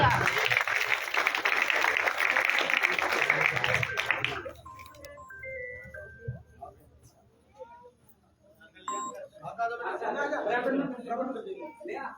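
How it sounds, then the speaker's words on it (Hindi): A crowd at a village gathering claps for a little girl, a dense burst of applause lasting a few seconds that gives way to quiet, scattered talk and chatter. "इस छोटी सी बच्ची के लिए एक बार जोरदार तालियां।"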